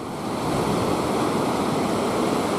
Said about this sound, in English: that's a heck of a rapid now